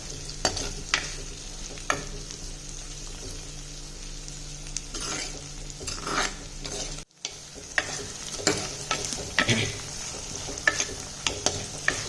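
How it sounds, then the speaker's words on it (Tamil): Pirandai (adamant creeper) sautéing with turmeric, whole garlic and salt in a pan, giving a continuous close sizzle punctuated by regular spatula scrapes and stirring knocks, with a brief dropout midway and no voices. "நல்லா வதங்கட்டும்"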